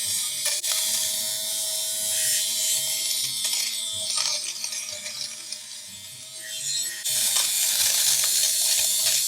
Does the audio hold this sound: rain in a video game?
no